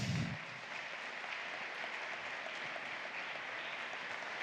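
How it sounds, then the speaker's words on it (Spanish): Sustained applause from a church congregation cheering for a group of girls, a steady dense clatter of clapping hands that holds evenly throughout without any talk. "Un aplauso grande para ellas"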